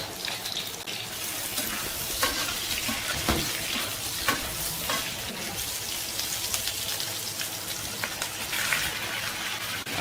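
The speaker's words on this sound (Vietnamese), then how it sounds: "mình sẽ dùng ngay cái dầu lúc nãy mà phi tỏi đó, mình sẽ xào cái hành tây và gan này luôn" Onion and liver stir-fried in garlic-infused oil in a home kitchen give a steady, close sizzle with scraping stirs and faint clinks running throughout, with no talking.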